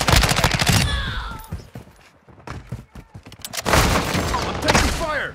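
In Call of Duty: Modern Warfare II, loud bursts of rapid gunfire come close together, then break off into scattered single shots during a quieter stretch before heavy automatic fire returns. Game voices and radio chatter sound between the bursts.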